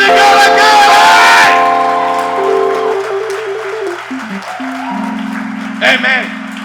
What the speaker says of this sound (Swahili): Haleluya, piga makofi na vigelegele.